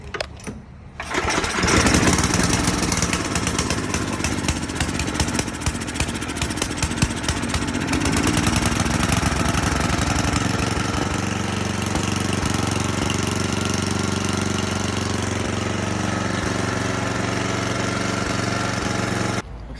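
Tecumseh snowblower engine on full choke starts after a brief pause, then runs loud and continuous with a rough, chattering roar that settles into a steadier drone. No voices are heard.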